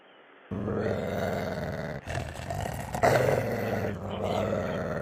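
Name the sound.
dogs growling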